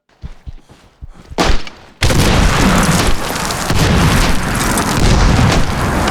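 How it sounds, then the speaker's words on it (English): A grenade launcher fired in Medal of Honor Warfighter multiplayer: a few small pops, then a sudden loud explosive boom that rolls into a sustained, heavy roaring rumble. "I have a grenade launcher apparently"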